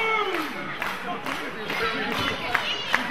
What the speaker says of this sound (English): Crowd rallying behind Storm now.